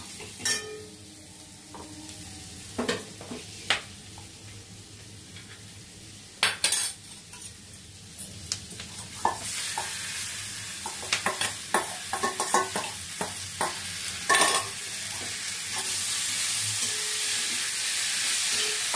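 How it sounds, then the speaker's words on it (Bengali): Masala and banana flower stirred in a frying pan, a spoon scraping and clinking against the metal in irregular bursts over a continuous low sizzle that grows louder toward the end, nearby with no speech. "মশলাটা একটু নাড়াচাড়া করে আমি এবার মোচাটা দিয়ে দেবো।"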